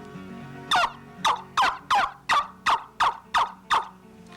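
A hand-held turkey yelper call imitates a hen turkey with nine sharp, evenly spaced yelps, close and loud, with no talking.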